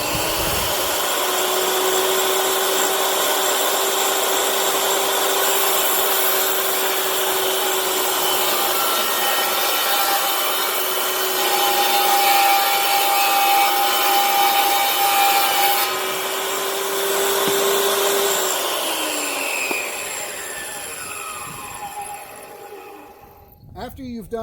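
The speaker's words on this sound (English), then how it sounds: "after I plug the table saw in" A table saw runs steadily for about twenty seconds cutting PVC pipe for a snake enclosure, a loud continuous whine with shifting pitch as the blade passes through the plastic, then winds down near the end.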